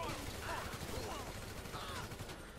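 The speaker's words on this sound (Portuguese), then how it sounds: "Tem uns homens atirando em nós aí" Gunfire from men shooting at the player in the video game GTA V: faint, rapid rattling bursts of shots during a getaway, heard low in the mix alongside a voice talking.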